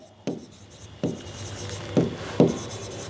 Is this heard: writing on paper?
yes